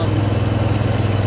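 A John Deere 345 lawn tractor engine runs steadily while driving across a yard, a strong, even low drone with a regular pulsing throb and no talk over it.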